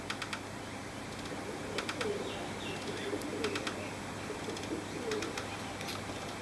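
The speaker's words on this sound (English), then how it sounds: "These are wild birds, these ones here." Wild cockatoos call outdoors, with faint, distant, scattered screeches over a steady background hum, and no one speaking.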